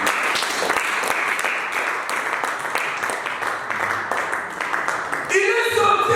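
A church congregation applauds loudly and continuously, a dense wash of many hands clapping in a large room, with a brief change in tone near the end.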